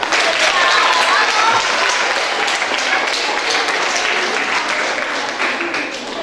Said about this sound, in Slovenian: Velik aplavz!